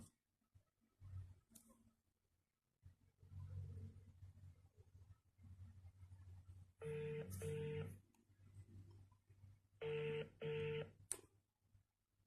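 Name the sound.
telephone ringing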